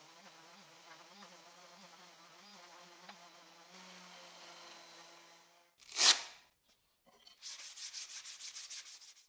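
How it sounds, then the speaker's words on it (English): Hand sanding of a woodworking project with 120 grit sandpaper: a soft buzzing rub fades out, a sharp scrape bursts loudly, then quick rhythmic back-and-forth strokes scratch close by, with no talking. "sanding will be done with 120 grit sandpaper"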